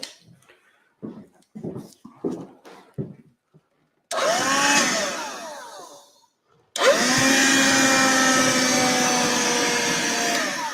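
A few short knocks and voices come first, then a vacuum cleaner roars on, whines down, and starts again loudly with a steady rushing hum.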